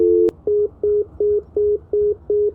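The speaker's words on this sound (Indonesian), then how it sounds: "Oh, teleponnya diputusin." A phone line goes dead after the caller hangs up: a click, then a loud repeating disconnect tone of seven short even beeps, each with a brief gap, alone.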